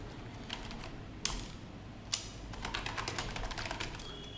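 Typing on a computer keyboard: a quick, irregular run of close key clicks, with a couple of sharper, heavier keystrokes standing out and a denser burst of tapping toward the end.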